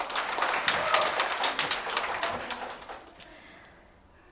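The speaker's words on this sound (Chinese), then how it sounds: "咁我哋俾你大声啲鼓掌。" Audience applause at a Cantonese-language gathering, a steady round of clapping for about three seconds that then fades out, leaving near silence before a brief sound at the end.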